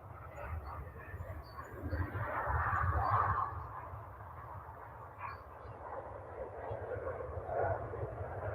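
An airliner comes in to land at Manchester Airport, a distant broad roar that swells to a peak midway and then eases off. Faint birdsong and outdoor ambience sit under it, and there is no talk.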